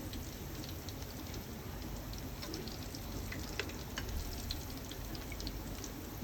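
Shrimp cheese balls deep-fry in a pan of bubbling oil, a faint, even crackling sizzle that carries on steadily throughout.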